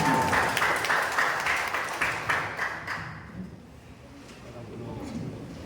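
Audience applause for SMA Al-Hikmah at a Hari Santri Nasional quiz final, a dense burst of clapping with voices mixed in, strong at first and then tapering off into a murmuring crowd.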